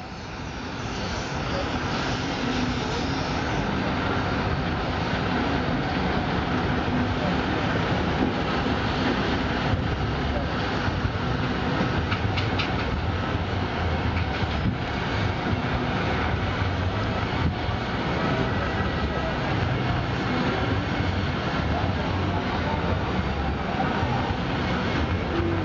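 A steam locomotive, Winston Churchill, rolling off a low-loader trailer onto rail track at a steam fair, heard as a steady, loud mechanical rumble and grinding that runs unbroken throughout.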